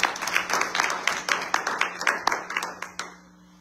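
A church congregation at a Sunday worship service claps and applauds in uneven bursts for about three seconds, the clapping close and lively before thinning out at the end.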